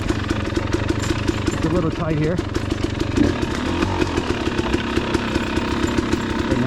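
Two-stroke KTM 300 XC dirt bike engine, still cold, running close by with a rough, burbling, uneven idle and small revs throughout, while someone talks over it.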